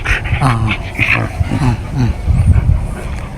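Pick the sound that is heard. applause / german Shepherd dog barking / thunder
german Shepherd dog barking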